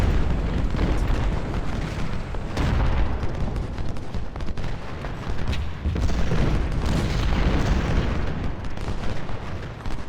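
Continuous artillery fire in the Civil War strategy game Ultimate General: Civil War, with heavy booming cannon blasts and rumbling bursts overlapping densely and loudly throughout, and no talking.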